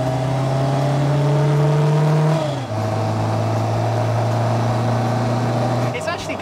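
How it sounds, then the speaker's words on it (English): A 1999 Mk3 Reliant Robin three-wheeler with an 850cc engine accelerates onto a dual carriageway, its engine note rising steadily, dropping at a gear change, then climbing again, loud and close from inside the car. "we're going on to a dual carriageway now, so let's see what that little 850 can do."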